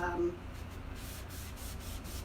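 Short, soft rasping strokes of wet sanding on wood coated in clay-based DIY paint repeat in a gentle rhythm, close and fairly quiet.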